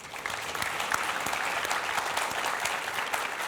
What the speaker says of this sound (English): If everyone could please give our wonderful panelists a round of applause.